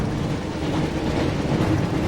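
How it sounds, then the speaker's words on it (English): A steady rumbling roar of the Hogwarts Express train in the Harry Potter and the Chamber of Secrets video game, continuous and loud with broad low-heavy noise and no pauses. "Looks like we found the train"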